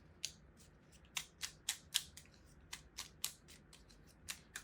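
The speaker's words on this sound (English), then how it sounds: "let us shuffle the cards" Hanafuda cards being shuffled, a quiet series of crisp, brisk slaps and riffles coming in irregular bursts, close by and alone in a hushed room.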